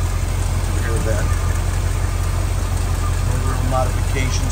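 A 1977 Chevrolet Corvette with little engine modification idles steadily, a loud low rumble running unbroken beneath faint background sounds.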